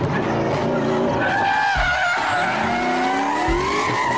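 A blue toy race car skidding sound effect: a sustained tire squeal with engine whine over a steady rumble, loud and close, running continuously with no talk over it.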